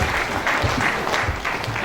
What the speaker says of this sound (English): I keep clapping for him.